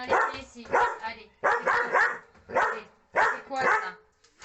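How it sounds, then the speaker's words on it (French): A dog barks repeatedly in short bursts of two or three, loud and close, with brief pauses between the groups. "Vous la voyez pas aboyer, je vous le dis."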